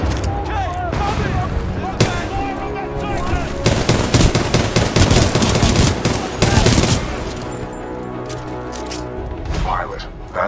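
Sustained automatic gunfire and booming explosions from a Titan giving supporting fire in the video game Titanfall 2, loud dense bursts overlapping with a voice speaking over the battle.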